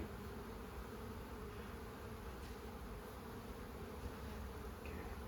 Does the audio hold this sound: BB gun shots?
no